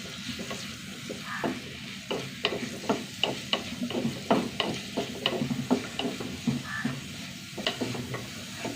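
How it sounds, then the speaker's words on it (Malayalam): Onion, ginger and green chilli sauté in a pan, with a steady close sizzle broken by repeated scraping stirs of a spoon against the metal, about a dozen strokes in an uneven rhythm. "ഇതൊന്ന് വഴണ്ട് വന്നോട്ടാ ഉള്ളി ഇഞ്ചി പച്ചമുളക്"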